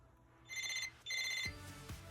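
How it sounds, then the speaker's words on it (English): A telephone ringtone sounds in two bright electronic bursts, each lasting about half a second with a short gap between them, followed by lower rumbling noise. "Phone."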